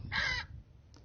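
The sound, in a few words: parrot sound effect from app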